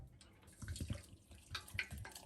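Boiled water is poured into a teapot for herbal tea, a soft, uneven splashing trickle in a few short bursts, close and fairly quiet.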